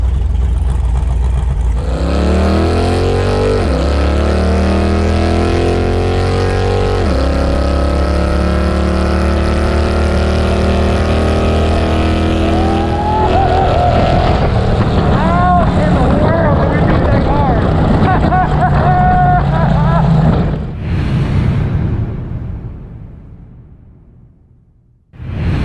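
A Jeep with a cammed 350 V8 revs and accelerates hard at a drag strip, its loud engine climbing through repeated gear pulls before fading into the distance, with voices faintly underneath.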